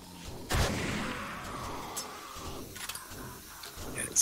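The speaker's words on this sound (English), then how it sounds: "Despite the fact that you're in a big solid steel building, you can still hear a gunshot out the front, clearly" A single sharp gunshot crack outside a solid steel building in the survival game 7 Days to Die Darkness Falls, heard from indoors, followed by quieter clanks and shuffling, then a few more small knocks.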